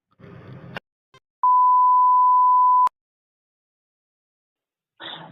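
A single steady electronic phone tone sounds for over a second, clean and unwavering, framed by short muffled noises before and after.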